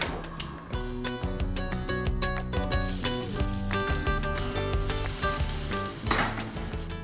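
Chopped shallot and garlic fry in a hot pan, a steady close sizzle with metallic clinks and scrapes of utensils against the pan throughout, no voices.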